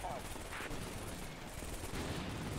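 In a Combat Mission: Shock Force battle, a Javelin missile launch and gunfire make muffled, dense rumbling with bursts of firing and a couple of sharper bangs, fairly distant.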